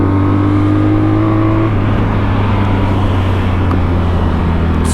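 A BMW R 1200 RT-P police motorcycle engine runs loud and close, its steady low drone shifting pitch partway through as the revs change, with no talking over it.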